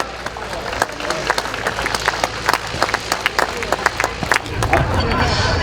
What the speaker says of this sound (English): Round of applause for this young man, folks, Michael Pontoff.